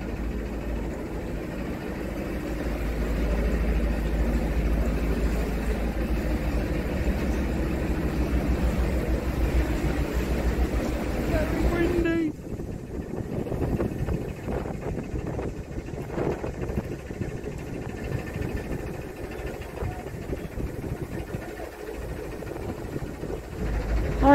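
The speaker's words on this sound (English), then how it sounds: "Very windy conditions" Heavy wind buffets and roars steadily across the microphone for a long stretch while driving, with a low engine drone underneath and rattling noises later on.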